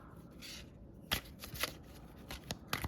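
Tarot cards being shuffled up close in quick riffling bursts, with short pauses between.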